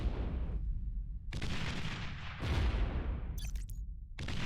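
Cannons on a Legion navy boat in Beyond All Reason fire in heavy booming blasts, several loud, close shots, each followed by a rolling rumble, with a few sharper cracks in between.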